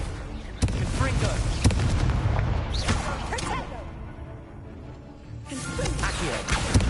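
Confringo blasting spells going off in Hogwarts Legacy, heavy booming explosions with whooshing bursts and crashing debris, loud and sustained across the scene with a brief lull before a final blast, a voice shouting spell names over it.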